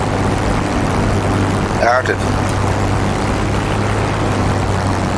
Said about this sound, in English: It's so hard to control this plane.